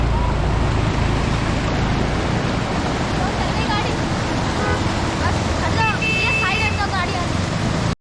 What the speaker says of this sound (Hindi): एक सेकंड वेट करो, ये बहुत बड़ा वाटरफॉल है